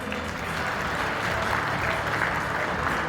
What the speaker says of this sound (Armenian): ջիգարով բարձր ծափարենք եւ ողջունենք մեր թանկագին ծնողներին